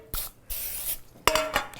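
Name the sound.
cooking spray sprayed on cake pan edges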